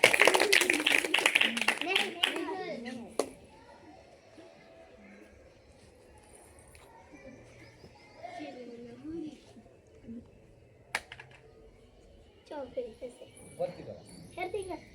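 Children in a school activity class clap together in a brief burst of applause at the start, followed by a quieter stretch of a teacher and children talking.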